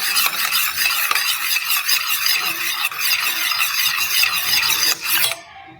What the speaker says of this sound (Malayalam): അതിനായിട്ട് ഞാനൊരു സ്പൂൺ ഉപയോഗിച്ചത് ഇങ്ങനെ ഒന്ന് മിക്സ് ചെയ്തെടുക്കുകയാണ്.